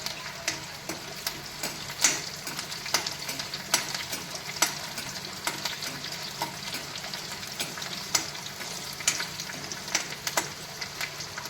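Dried red chillies fry in hot oil for upma, a steady crackling sizzle with frequent sharp pops and ticks spread evenly throughout, close and moderately loud with no voices.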